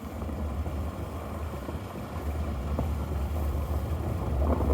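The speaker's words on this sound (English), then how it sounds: "Snow crunchies." A 2022 Nissan Frontier 4x4 with a 4.5 liter engine drives over ice and snow on a Colorado off-road trail, giving a steady rumble of engine and tires with soft crunching, loud throughout and building toward the end.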